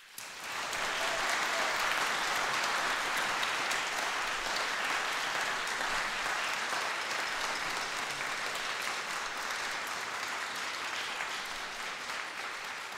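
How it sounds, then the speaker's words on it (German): Sustained applause from a large congregation in a church fills the space, dense and steady for the whole stretch, tapering only slightly toward the end. "Einen kräftigen Applaus für euch."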